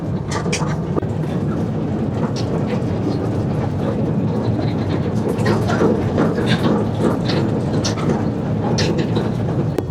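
A small ride train running on rails at a water park in Rangpur, giving a continuous rumbling roll with faint clacks and rattles, steady and close for the whole stretch.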